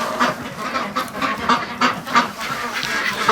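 A flock of ducks quacks and honks repeatedly inside a warm barn in freezing winter weather, with overlapping calls at an uneven rhythm against a steady background murmur.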